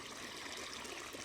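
Water trickling and flowing through a farm irrigation channel from a small check dam, a soft, steady watery rush heard faintly and alone.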